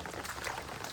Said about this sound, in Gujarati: કેવું પાણી જાય છે ફર્સ્ટ ક્લાસ જાય પાણી.